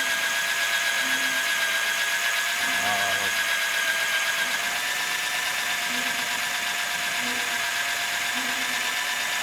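A cordless drill with a spade bit runs steadily, its motor whining with a constant mechanical drone and faint ratcheting as it bores into wood, close up with no talking.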